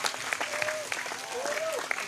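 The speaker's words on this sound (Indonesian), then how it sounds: "Tepuk tangan dulu dong." Audience clapping at an outdoor religious gathering in Indramayu, a moderate patter of many hands with some louder individual claps, while a voice and faint tonal sounds carry over it.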